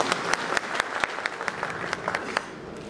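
Scattered, distinct hand claps from an audience at a Bhojpuri film launch ceremony for Mera Bharat Mahan. The individual slaps land in a loose, quick rhythm over a low room murmur, then taper off.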